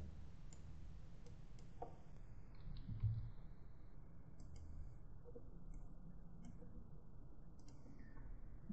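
A computer mouse gives a scattering of faint, sharp clicks spread irregularly over a quiet background, soft and close with no one speaking.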